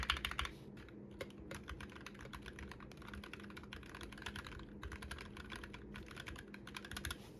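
Typing on a custom mechanical keyboard fitted with stock Durock Linear Creamy Pink switches, a steady, close run of soft clacky keystrokes with no talking.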